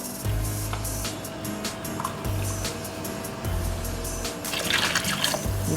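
Seafood stock being poured into a cooking pot, a soft liquid trickle and splash close by over a low background hum, swelling louder toward the end.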